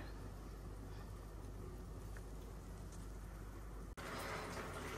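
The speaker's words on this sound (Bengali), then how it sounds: "বৃষ্টি হইতেছে।" Steady rain hissing outdoors, a dense continuous wash with a brief break near the end, no voices.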